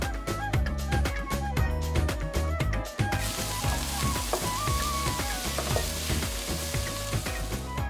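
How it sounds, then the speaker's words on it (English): Chopped fenugreek cooks in a sauté pan with green chilies for murgh methi; a bright, hissing sizzle rises partway through and continues beneath prominent, beat-driven background music. "Next, I'm going to add the chopped fenugreek, and I'm going to cook it for a few minutes."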